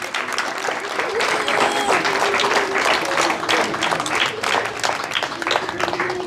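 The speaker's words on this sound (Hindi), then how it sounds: "बहुत सारी तालियाँ" A crowd at a gift distribution for children at a shelter home gives sustained, lively applause, steady and fairly loud for the whole stretch, with a few voices calling out over the clapping.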